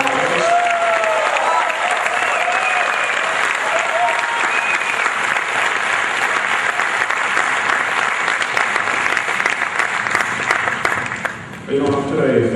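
An audience applauds ten contest champions at a humorous speech contest, with loud, sustained, dense clapping and some crowd cheer filling the room for about eleven seconds before it trails off abruptly.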